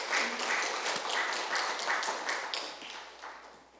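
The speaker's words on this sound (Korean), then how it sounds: "우리 한 박수 칩시다." A church congregation claps together at an Easter Sunday morning service, a dense burst of hand claps that fills the room and then thins out, with no speech over it.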